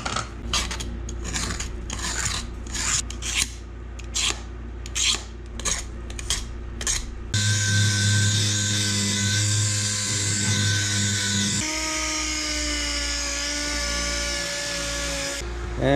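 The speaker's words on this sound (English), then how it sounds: "I'm gonna have to sand this down, get all that junk off the edge" A small plastic part is sanded by a power tool to clean its edge while preparing a mold for carbon fiber: short rhythmic bursts of whirring at first, then a steady, loud high-pitched grinding whine.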